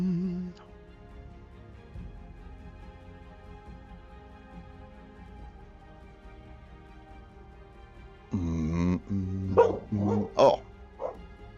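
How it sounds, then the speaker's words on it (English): Several dogs bark in a short burst of sharp, overlapping yaps toward the end, after a long stretch of quiet indoor room tone with faint talk. "Doggies, be quiet."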